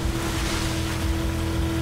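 Boat engine droning and water rushing past in the video game Battlefield 4, a steady, dense, loud wash of sound with no pauses and no talk.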